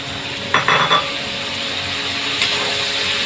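Boiled jackfruit seeds being stirred into a pan of pumpkin and spinach, giving a short burst of scraping and clattering utensil sounds near the start, then a quieter steady kitchen background.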